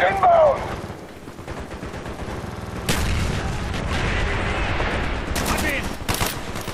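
Gunfire in Call of Duty Black Ops during the Project Nova mission, with bursts of shots and booming blasts under shouted German voices and radio chatter.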